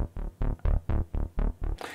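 A deep, slightly brightened and muffled analog-style synth bass from a Logic Pro Alchemy patch plays a quick rhythmic run of short, punchy notes, with modulation delay on it.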